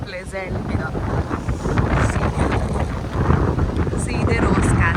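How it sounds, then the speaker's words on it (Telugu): Strong wind near Ross Castle in Killarney buffeting the microphone in a steady loud roar with gusty swells, while a person speaks briefly near the start. "ఆ గాలి సౌండ్ వినండి"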